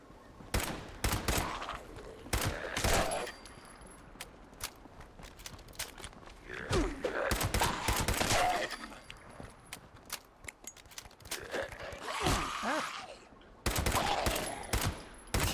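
Video game gunfire, with repeated sharp shots and rapid bursts in uneven clusters across the stretch, loud and close, separated by quieter gaps.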